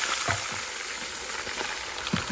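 Ginger, garlic and onion paste sizzling in a pan with a large batch of meat, a steady loud frying hiss with occasional soft stirring knocks, no voices.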